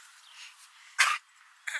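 A short, sharp snort-like burst of a dog sneezing, sudden and fairly loud, followed by a second brief snuffle near the end.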